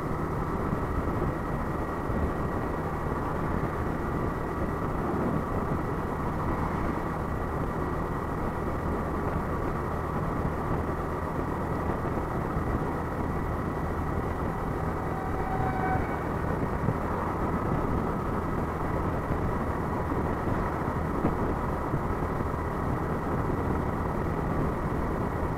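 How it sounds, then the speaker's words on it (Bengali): A steady, dense rumble of idling and creeping engines fills a jammed road between Murshidabad and Kolkata, unbroken and without talk. "পুরো রাস্তা জাম।"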